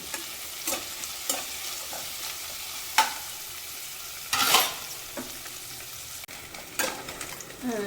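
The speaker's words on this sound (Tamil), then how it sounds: "நம்ம வெங்காயமும் பச்சை மிளகாய் சேர்த்துடும் இது நல்லா வதங்கட்டும்" Onion and green chillies saute in a hot pan, a soft steady sizzle broken by repeated scraping stirs of a spoon, with one louder clatter midway; nobody speaks.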